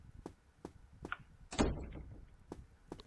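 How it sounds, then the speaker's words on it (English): A door swinging open in the video game Fausts Alptraum, a single rumbling, scraping sweep that fades out, set among faint evenly spaced clicks in an otherwise quiet scene. "a door opened when we put in that painting."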